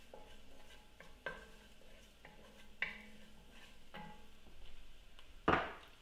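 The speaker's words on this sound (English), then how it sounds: "So I'm gonna saute my garlic." Garlic sautéing in a pan, quiet sizzling punctuated by several distinct utensil knocks and scrapes against the pan, ending with a louder clatter.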